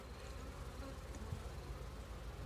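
Honey bees buzz steadily in a dense, close swarm around an open hive while frames of worker brood are lifted out, a continuous droning hum with no talk.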